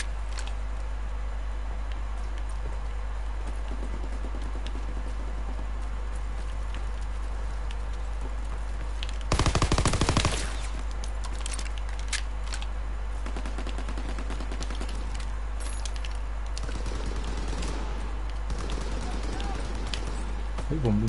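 Unsilenced gunfire in the World War II shooter Call of Duty WW2 on PS4 multiplayer, a loud burst of shots around the middle over steady game ambience, with scattered fainter pops later.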